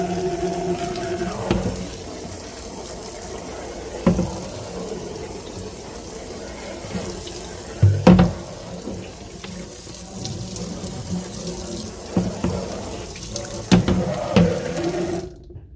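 Tap water runs steadily into a sink during washing up of a small container before bleach prep, a continuous splashing wash with a few louder clunks and knocks of items being handled, no talking.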